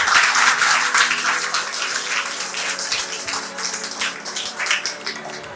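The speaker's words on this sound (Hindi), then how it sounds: "कभी कभी ताली बजाया करो यार" Indoor audience applause at a coaching institute celebration, dense clapping from many hands, loud at first and gradually tapering off.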